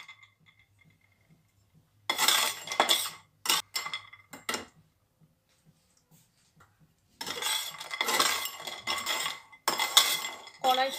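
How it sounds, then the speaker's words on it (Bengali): Metal utensils clink and scrape against a wok while lentil dumplings (bori) are fried in it, in short bursts of clatter separated by quiet pauses. "এবার কড়াইতে বড়িগুলো আগে ভেজে নিচ্ছি।"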